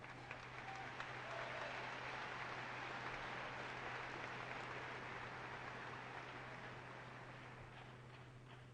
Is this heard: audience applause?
yes